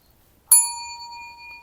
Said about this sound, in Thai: เดี๋ยวกดกระดิ่งนะคะ